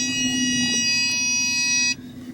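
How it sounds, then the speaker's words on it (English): A steady, loud electronic warning beep sounds continuously for about two seconds, then cuts off abruptly, leaving quiet background hum. "that beep just like irritates the shit out of me"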